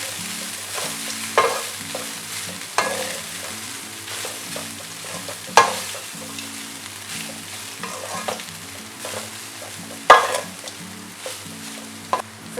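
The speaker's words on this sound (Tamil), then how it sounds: "ஸோ ஒரு 5 நிமிஷம் இது நல்ல லோ ஹீட்லேயே கிளறி நான் குக் பண்ண போகிறேன்" Masala onion rice being stirred in a pan over low heat: a soft continuous sizzle broken by repeated scraping strokes of a spoon, with a few sharper clanks against the pan.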